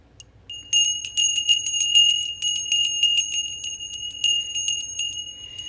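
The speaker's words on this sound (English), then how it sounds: "And ring a bell so that we can receive this message with clarity." A bell rung for an oracle card reading with a goddess deck, struck repeatedly in a quick, shimmering run of bright metallic tones that ring on steadily, close and clear, with no talking.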